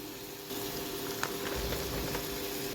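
Paneer cubes are tossed and fried in butter in a pan, giving a soft, steady sizzle with a few light stirring clicks, faint and close, with no talk.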